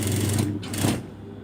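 Sewing machine stitching the crotch seam of a jumpsuit, a steady close mechanical whir that pauses briefly near the middle and then resumes before tapering off.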